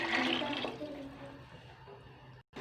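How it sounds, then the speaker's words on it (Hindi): Water pours into a cooking pot holding rice for a carrot and potato pulao, a steady close splashing stream that ends abruptly near the finish, with no talk over it. "अब हम इसमें ऐड करने लगे हैं पानी"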